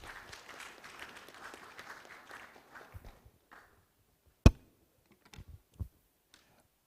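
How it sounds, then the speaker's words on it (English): An audience at a mining and oil and gas report launch applauds softly for about three seconds before the clapping dies away, followed by a few isolated clicks and knocks in near silence. "Let's give him another big round of applause."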